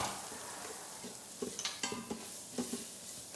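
Gluten-free flour being stirred into butter and vegetables in a pan makes soft scraping strokes and a few light utensil clicks over a low, steady sizzle, fairly quiet and close.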